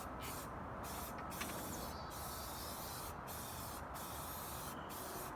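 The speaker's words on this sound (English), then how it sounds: "We spray paint over everything at once." Spray painting an outdoor unit to cover bare metal, a steady hissing spray held close and continuous, with brief pauses between passes.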